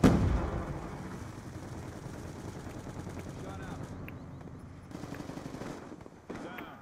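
Shotgun fire in a first-person shooter video game: a loud blast opens, followed by scattered gunfire and battle noise under game voice chatter.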